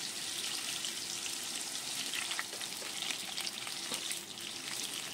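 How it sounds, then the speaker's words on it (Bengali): Whole potatoes fry in vegetable oil in a pan, giving a soft, steady sizzle with occasional light crackles, faint and continuous with no voices. "সেই আলুগুলো ভেজে নিলাম।"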